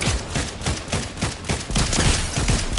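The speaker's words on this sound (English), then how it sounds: "what was that explosion? What was that rocket launcher?" Rapid bursts of gunfire and explosions in a video game rattle on loudly for nearly three seconds, a dense, continuous barrage with repeated sharp impacts and booms.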